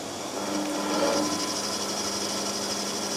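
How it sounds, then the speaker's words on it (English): A woodworking bandsaw runs steadily while cutting wood for a wine rack, a constant close mechanical whir and hum with a faint tonal whine, alone without talk. "next thing, over to the bandsaw."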